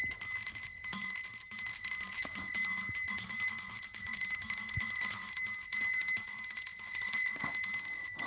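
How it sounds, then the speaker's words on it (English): Steady, loud ringing of a bright, high-pitched bell that carries on unbroken for several seconds, with no talking. "Ring the bell loudly."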